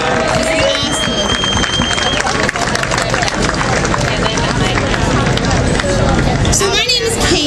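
A large crowd claps and cheers continuously at a live talk event, a dense wash of applause and chatter that stays loud throughout.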